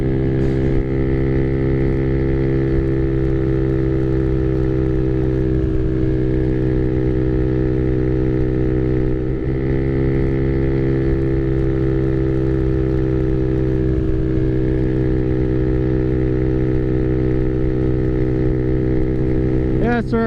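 Honda Navi motorcycle engine cruising at 45 mph, a steady, loud, even drone with a constant whining pitch, briefly rising and dipping, plus wind rush throughout.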